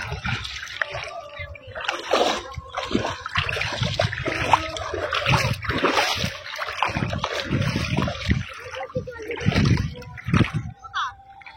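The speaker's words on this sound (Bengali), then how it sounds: "এই যে একটা জল মারলাম।" Water splashed by hand in a village pond while catching snails, a series of sloshing, splattering bursts close by, with a person talking throughout.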